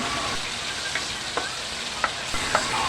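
Onions frying in a pan, a steady close hiss of sizzling with occasional scraping stirs and small pops, continuous and fairly loud.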